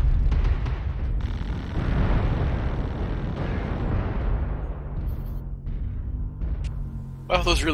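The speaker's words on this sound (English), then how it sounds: "I'm getting shot at with missiles?" Missiles exploding around a mech in the MechWarrior Online battle game, a dense rumbling barrage of booms and bursts that fades toward the end, with people talking over it.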